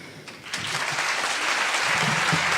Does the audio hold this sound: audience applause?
yes